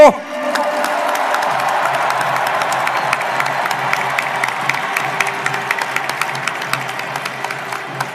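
A large crowd at a presidential nomination acceptance event applauds and cheers steadily, with dense clapping and scattered shouts filling the hall at a consistent loud level throughout.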